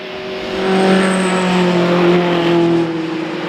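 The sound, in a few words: Tuscan racing cars at Oulton Park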